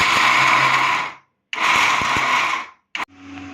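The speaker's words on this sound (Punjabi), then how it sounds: "ਹੁਣ ਅਸੀਂ ਉਹੀ ਭੁੱਜੇ ਹੋਏ ਛੋਲਿਆਂ ਨੂੰ ਗ੍ਰਾਈਂਡ ਕਰ ਲਈ" Kitchen mixer grinder grinding roasted chickpeas, running in loud whirring bursts of about a second each with short pauses between, then a brief final pulse and a lower hum as it winds down.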